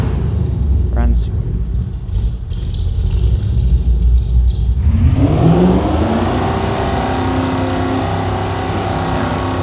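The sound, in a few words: pickup truck engine running, video game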